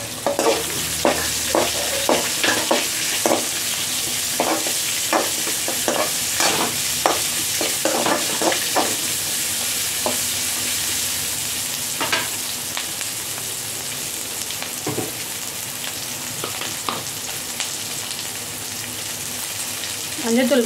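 Onions frying in a pan for a potato masala to serve with poori, stirred with a utensil that clatters in a steady rhythm of sharp scrapes over a constant close sizzle.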